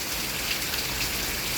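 Heavy rain pours down in a dense, continuous hiss of countless drops striking surfaces, steady and fairly loud for a moment with no voices over it.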